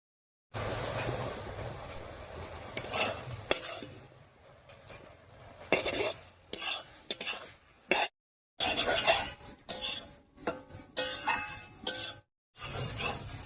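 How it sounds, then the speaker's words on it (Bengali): Boiled Maggi noodles being stirred with masala in a pot, with clinking metal utensil scrapes and clatter against the pot in uneven bursts, close and clear, broken by brief silent gaps, no voices. "ম্যাগি মশলাটা দিয়ে খুব ভালো করে মিশিয়ে নিয়েছি"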